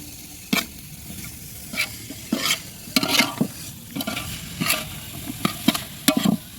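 Green peas and curry leaves frying in a pan make a low sizzle, broken by sharp, irregular spatula knocks and scrapes as they are stirred.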